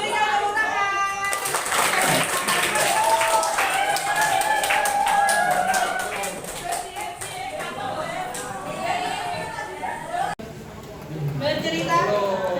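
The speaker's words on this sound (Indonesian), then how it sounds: "Oke, berikan tepuk tangan." A classroom of children clapping together, a dense burst of rapid claps that starts abruptly, holds for several seconds and tapers off, with young voices chattering and calling out over it.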